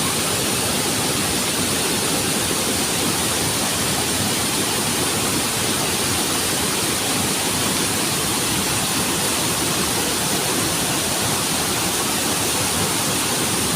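Rushing water pours over the rocky rapids of a river, a dense, steady broadband roar that holds unbroken and fairly loud throughout, with no voices.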